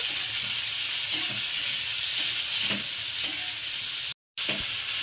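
Chopped onion frying in oil in a pan for a lote fish curry, stirred lightly: an even, loud hiss with soft periodic scraping strokes and a brief dropout near the end.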